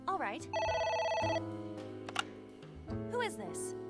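A telephone ringing in the video game AI: The Somnium Files, an electronic ring tone heard up close alongside game music and other game sounds.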